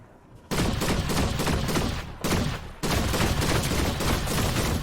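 Rapid weapon gunfire in the Fortnite video game, dense loud bursts of automatic shots with two brief pauses, fired close and continuous without talk.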